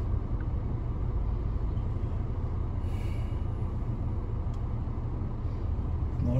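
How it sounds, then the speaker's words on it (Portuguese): Street traffic in Natal, Brazil, rolls past as a continuous low rumble of passing cars, steady and fairly close, with no talking. "Deixar aqui os carros passar."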